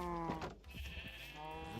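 Sheep in the Minecraft video game bleat twice in quick succession, the first call brief and the second longer and wavering, clear and close against a quiet background.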